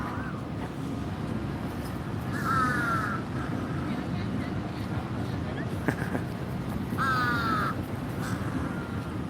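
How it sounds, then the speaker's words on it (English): Crows or ravens caw in a city park in Bangkok, two clear bursts of calls standing out over steady wind and low outdoor rumble, with a faint voice now and then. "Are these ravens or crows?"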